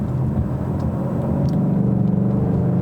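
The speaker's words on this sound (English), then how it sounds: "first setting off in the new Mustang" A 2018 Ford Mustang GT V8 pulls away with a deep, rumbling engine note that builds slightly in loudness, heard steadily from inside the car.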